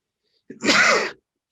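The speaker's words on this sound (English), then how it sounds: "All right, I gotta sneeze." A single sharp sneeze, close and loud, with a quick intake of breath before the burst, then silence.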